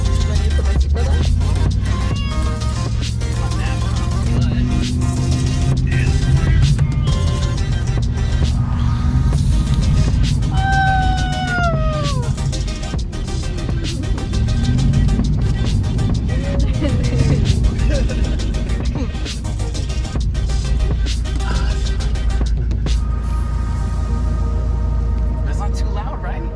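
Third-generation Firebird/Camaro heard from inside while driving, a moderate engine hum and road noise running under conversation between occupants throughout.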